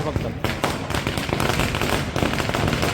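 Firecrackers burst at a political rally in Maharashtra, a dense run of loud sharp cracks and pops in rapid irregular succession, close by, with crowd voices mixed underneath.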